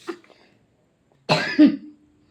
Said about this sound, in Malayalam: ആ പനിയും ചുമയും കുറയുന്നില്ല